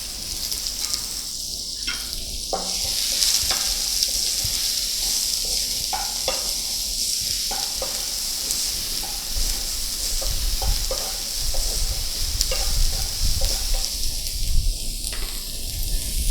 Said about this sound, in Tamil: வெங்காயம் ஒன்று நறுக்கி வச்சுருக்கேன்,